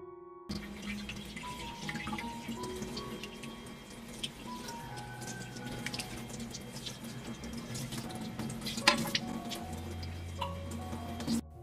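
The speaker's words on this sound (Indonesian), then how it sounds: "Cuci dagingnya digosok-gosok seperti ini sampai benar-benar bersih ya" Tap water running steadily into a sink while raw beef is rubbed clean by hand, with splashing and dripping, a few light knocks, and a low hum in the background, close and with no talking.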